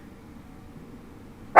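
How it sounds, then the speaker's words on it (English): Cookie the dog lets out a single sharp bark that cuts off abruptly at the very end, breaking a quiet indoor room hush. "Cookie is now going to bark because, you know, we've got invaders in the house."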